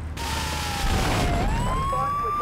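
Wailing ambulance siren in Grand Theft Auto 3, a single long rising and falling tone sustained throughout, loud against steady traffic noise with no talk.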